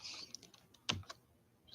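A few light, scattered clicks of a computer keyboard being typed on, quiet and irregular, with one sharper keystroke near the middle and no talking.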